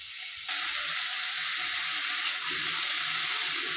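Ginger garlic paste and spices with a little water hit a hot pan for a Bengali muri ghonto with fish head, starting a loud, steady hiss and sizzle that keeps going with small bubbling pops.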